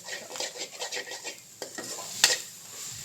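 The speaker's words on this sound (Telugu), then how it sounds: "ఇది మంచిగా కలుపుకోండి." A spoon or spatula stirs food in a pan, with soy sauce just added, while pasta is being cooked. Repeated scraping strokes run over a light sizzle, close and fairly quiet, with one sharper clink near the end.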